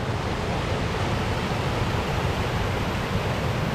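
A small waterfall on the Rainbow Falls Trail in the Smoky Mountains rushes close by, a loud, constant broadband roar of tumbling water with no pauses or voices.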